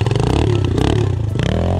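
A nearby motorcycle engine revs loudly with rising and falling pitch during wheelie practice, a short burst of throttle over some clatter.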